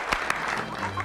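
A comedy show audience breaks into applause, a brief burst of clapping mixed with a voice in the room.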